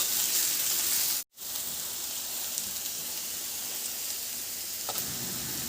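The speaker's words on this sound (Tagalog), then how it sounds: "Igisa ko na rin yung sibuyas. Ihalo lang din hanggang sa mag-translucent." Onion and garlic sauté in a pan for menudillo, a dense steady sizzle that cuts out for a moment, then resumes at an even level with a few faint clicks.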